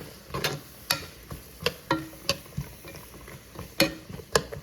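Vegetables are stirred in a soup pot for chicken noodle soup, with a soft sizzle under repeated sharp spoon taps and scrapes against the pot at an uneven rhythm, close and fairly quiet.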